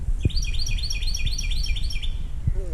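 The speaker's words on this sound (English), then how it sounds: "Got some Easter birds out here." Small birds chirp rapidly in a garden, a busy run of repeated high tweets that are clear and fairly close, with a few low thumps and rustles underneath.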